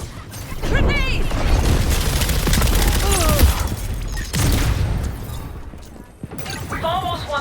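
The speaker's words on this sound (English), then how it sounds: "Grenade!" A grenade goes off amid chaotic gunfire and mechanical clatter in the Concord shooter, with loud bursts and crashes repeating over several seconds while voices shout nearby.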